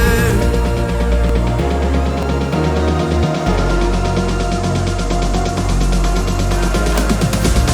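Loud, dense electronic music with layered synth chords and a steady, driving drum pulse that keeps building, continuous and without pause.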